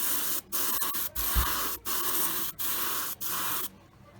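An airbrush sprays Mission Models paint, hissing close by in bursts broken by brief gaps and turning sputtery as the paint runs low.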